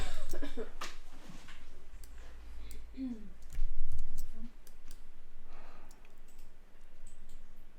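Computer mouse clicks, several sharp, close taps scattered irregularly, with someone speaking quietly in between.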